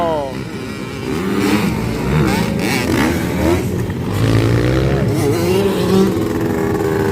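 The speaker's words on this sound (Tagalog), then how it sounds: "nagabirya ang motor ni Jan Almerino" A racing motorcycle engine revs loudly at a motorcycle race, rising and falling in pitch as it accelerates, with an excited announcer's voice over the top throughout.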